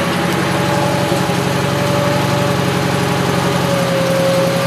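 A Gravely 818-T garden tractor's engine runs steadily after starting, a constant close mechanical drone with a faint whine and no talking.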